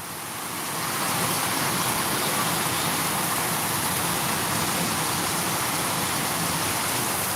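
Steady rain falls at night in a dense, even hiss that keeps a constant level from start to finish, fading in over the first second, with no voices.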